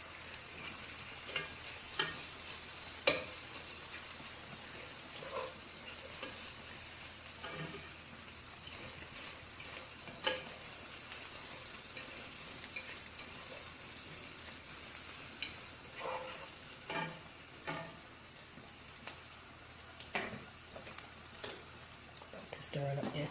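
Sausages and rice being stirred in a pot for a Southern Sunday dinner, a steady low sizzle under intermittent scraping and clinking strokes, with a voice speaking quietly now and then.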